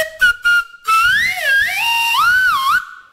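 A loud pneumatic slide whistle with a sloped baffle opens with two short toots, then holds a sustained tone that slides up and down in pitch before stopping abruptly.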